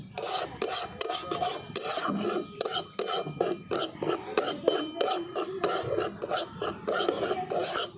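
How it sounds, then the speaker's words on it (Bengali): Sandesh mixture stirred and scraped in a pan, a steady rhythmic rasping of utensil against metal repeating close by with no voices. "দেখুন কিছুক্ষণ আড়াচড়া করে নিয়েছি"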